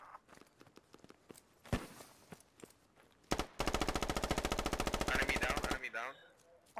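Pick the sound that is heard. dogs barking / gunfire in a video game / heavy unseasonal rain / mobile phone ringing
gunfire in a video game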